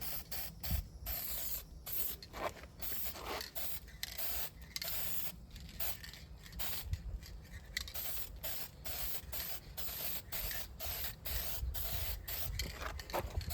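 Adhesion promoter hisses from an aerosol can in light coats onto plastic interior trim of a 1971 Corvette C3, a steady close spray broken by brief pauses between passes, with no talking.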